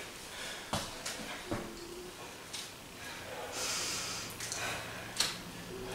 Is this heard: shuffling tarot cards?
no